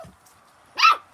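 A six-week-old miniature poodle puppy lets out a single short, high-pitched bark near the end, close and clear after a quiet stretch with a faint hum.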